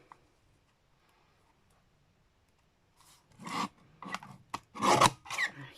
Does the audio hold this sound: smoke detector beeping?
no